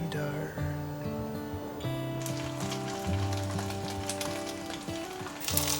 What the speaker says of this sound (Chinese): 锅内放入适量的油，油微热，放进来煎